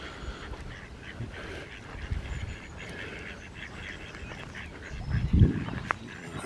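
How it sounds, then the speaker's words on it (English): Ducks and Canada geese call around a country park lake, scattered quacks and honks at moderate distance over outdoor ambience, with one louder burst near the end. "There's some ducks about."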